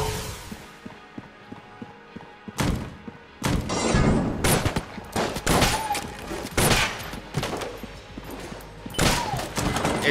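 A shotgun firing crossbow bolts in Enter the Gungeon blasts in loud, irregular bursts over quieter rhythmic clicking game sounds, with rapid impacts clustered together and no talk.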